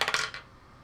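Tabletop gaming dice clatter and bounce across a table in a quick burst of hard rattling clicks, then settle into quiet within half a second.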